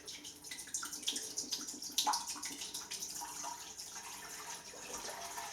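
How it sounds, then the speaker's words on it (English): Water pours steadily into an Instant Pot, a continuous splashing trickle of moderate loudness with a few brighter splashes, and nobody talking. "What I do is I go ahead and put my water in."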